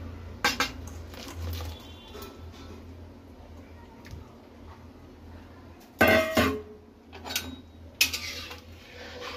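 Fried paneer goes into simmering curry in a pan, with a few sharp metallic clinks of utensil against the pan standing out over a quiet bubbling background, as someone speaks.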